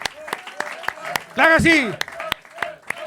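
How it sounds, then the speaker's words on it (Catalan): A few people clap for La Sagrera in a podcast studio, giving sparse sharp claps scattered between stretches of lively talk and laughter. "Un aplaudiment per la Sagrera."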